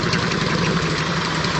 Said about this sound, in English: I actually had a Honda Shadow, which sounded very much like the one in front of me.